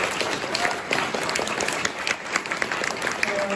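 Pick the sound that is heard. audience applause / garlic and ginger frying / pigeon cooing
audience applause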